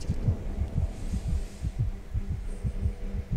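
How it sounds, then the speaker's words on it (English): Heartbeat in the video game Lifeless Planet, a steady run of about a dozen deep, muffled double thumps under a low hum, regular and close. "Get the heartbeat going."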